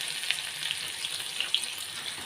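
Onion frying in a hot pan gives off a soft, continuous sizzle with faint crackles and pops, close by and quiet, with no talk over it.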